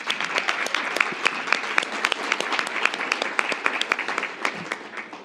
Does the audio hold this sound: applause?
yes